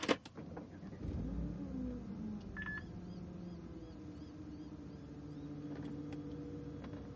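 An Audi S4 is started: a brief starter crank and catch, then the engine settles into a steady idle hum, with electronic chimes and beeps sounding in the cabin.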